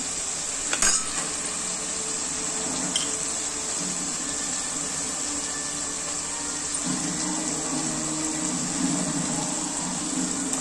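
Onion frying in roasted masala for a mixed vegetable kurma bhaji with cashews, a steady close hiss and sizzle of oil, with faint stirring clinks and scrapes running underneath throughout.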